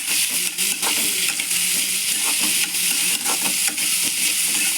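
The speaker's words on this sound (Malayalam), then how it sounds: "അപ്പം ഇത് നല്ല രീതിയിൽ കിടന്ന് വഴണ്ട് വരട്ടെ" Onions sautéing in a pan, a loud, continuous close sizzle with faint rhythmic scrapes and taps of a stirring spoon throughout.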